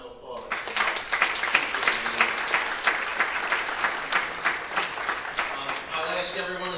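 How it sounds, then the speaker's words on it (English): Audience applause fills a breakfast event honoring the 2021 Teacher of the Year at The Marigold, a sustained, dense clapping that starts abruptly, holds steady for several seconds and thins out near the end. "How about another round of applause?"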